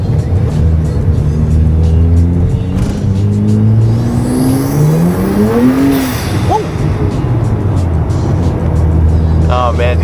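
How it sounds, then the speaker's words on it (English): A BMW fitted with a turbo blow-off valve revs hard while accelerating, the engine note rising and falling loudly and close, with a brief whooshing release and tire noise on cold, slipping tires. "Hopefully you guys can hear the blow off, because it sounds so good."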